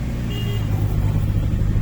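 A manual-gear car in a driving lesson rumbles with a low, steady engine drone from inside the cabin, a faint whine briefly above it, with no voices in the clip.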